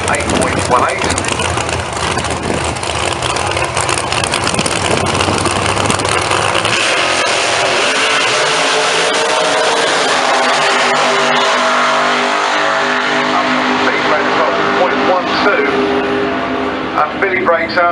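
Drag racing at Santa Pod Raceway, with a dragster and a door car engine roaring loudly, first a dense blaring rumble, then a sweeping rev that fades as the cars pull away, over a public-address voice.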